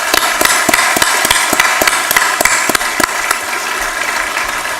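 Audience applause at an international conference on small satellites in a university hall, a steady wash of many hands clapping with sharp individual claps standing out, fairly loud and continuous throughout.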